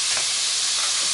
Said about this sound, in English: And the butter just has to melt.